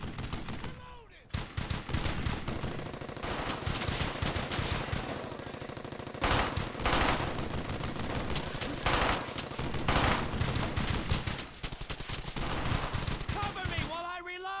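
Machine gun fire from a World War 2 infantry video game rattles in dense, sustained bursts across the whole stretch, loud and close, with brief drops in intensity between volleys.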